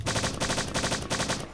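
Repeated grenade launcher fire in the shooter game Strife, a rapid burst of loud, evenly spaced blasts that runs steadily for the full stretch with no voices over it.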